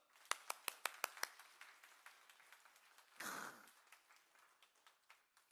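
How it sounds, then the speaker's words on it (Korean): A church congregation at a Sunday morning worship service claps for a member: a quick run of sharp, distinct claps, then thinning, scattered lighter ones and a brief rustling burst, all fairly faint in a quiet room. "박수 한번 줍시다."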